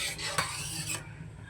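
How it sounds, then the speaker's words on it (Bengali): A spoon stirs spiced rohu fish curry with added water in a pot, making a brief close scraping and clinking against the metal that lasts about a second before fading. "এবারে নেড়ে চেড়ে ঢেকে দেব।"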